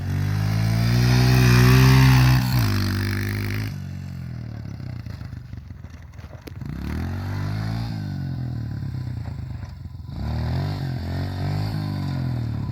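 Honda CRF125F and Piranha P125E pit bikes riding, small single-cylinder engines revving up and down through corners, loud and close at first, then easing and rising again with some clatter.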